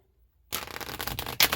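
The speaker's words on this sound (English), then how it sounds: "I'm just going to start focusing on this and shuffling for our Geminis." A deck of tarot cards is shuffled in a quick, close riffle of crisp papery slaps that starts suddenly after a moment of near silence and continues without talk.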